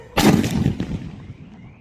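Large Jallikattu bomb firecracker exploding outdoors during Diwali, a single loud, close blast with a sharp crack, followed by a rumbling echo that fades over about a second and a half.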